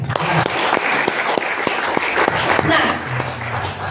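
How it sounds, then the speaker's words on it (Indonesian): Applause from a seminar audience in Pemalang, with a few distinct sharp claps standing out over a busy hall murmur, a voice speaking briefly near the start. "Tepuk tangan."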